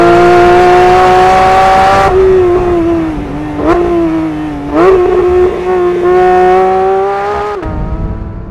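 A 992 Porsche 911 GT3 RS engine held at full throttle, a loud, near, high-pitched wail climbing steadily, broken by quick paddle-shift upshifts before the revs drop away at the end.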